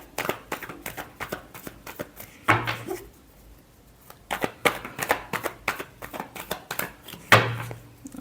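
Tarot cards are shuffled by hand in quick, rapid riffling bursts, with a couple of louder snaps and short pauses between rounds, close and clear.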